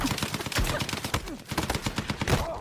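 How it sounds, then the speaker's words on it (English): Shotgun blasts in the shooter game Battlefield 6, a dense run of sharp, booming reports with clattering effects in between, loud and busy throughout, with faint voices underneath. "miss every single shotgun shot"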